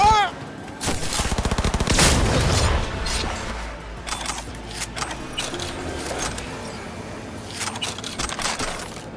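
A pump-action shotgun blasting in Cyberpunk 2077: one heavy, booming shot up front, then several sharp reports and metallic racking clatters over a busy combat soundscape.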